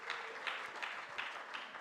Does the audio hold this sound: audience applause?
yes